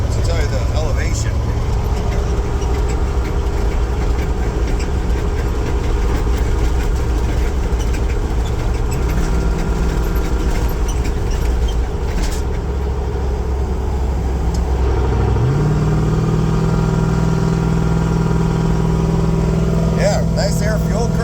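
A 1978 Ford Bronco with a 460 EFI V8 engine labors up a steep hill, a loud, continuous low rumble heard from inside the cab, with the engine note rising in pitch near the end.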